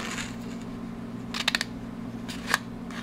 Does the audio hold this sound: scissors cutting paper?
yes